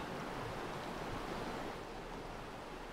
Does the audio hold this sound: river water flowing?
yes